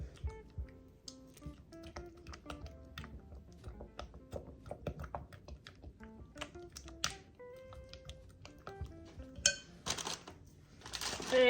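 Chocolate chips melting for fudge are stirred in a pot, with a busy run of close clinks and scrapes of a utensil against the pan, denser and louder near the end, with no talk.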